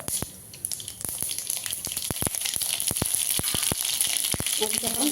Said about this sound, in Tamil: ஜீரகம் கொஞ்சம் போட்டு தாளிச்சிக்கலாம்.